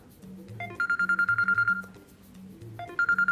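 A phone ringback tone repeats in two bursts of steady electronic beeping over a low melodic pulse, the sound heard while a caller waits for an automated weather service to answer.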